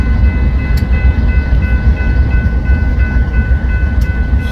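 A BNSF train locomotive moving slowly through a rail yard, giving a steady low rumble with a faint constant tone above it, close and continuous throughout.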